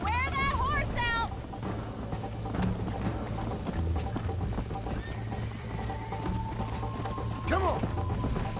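Horse galloping in the video game Red Dead Redemption, steady rhythmic hoofbeats with occasional whinnies, game music and a voice shouting over them.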